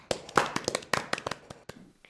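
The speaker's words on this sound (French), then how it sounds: "ils les applaudissent comme s'ils étaient vraiment à un concert" Neighbours applauding as if at a concert: a short, close burst of sharp hand claps, irregular and crisp, thinning out toward the end.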